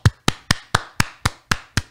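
Eight crisp, evenly spaced hand claps from a single person, about four per second, sharp and close with nothing else around them.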